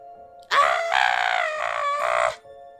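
A person imitates a loud scream, holding one strained, harsh, sustained cry for about two seconds before it cuts off, close and alone.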